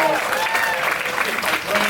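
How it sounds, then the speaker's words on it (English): Brief burst of audience applause at a live comedy talk show, dense clapping that stays steady and fairly loud with some voices mixed in. "A round of applause for John Hodgman."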